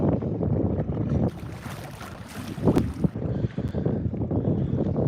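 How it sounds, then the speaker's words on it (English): Wind gusting outdoors on a fishing trip out on the water, a loud rumbling buffet across the microphone that swells and eases with the gusts, with no voices heard. "Today the wind is actually blowing"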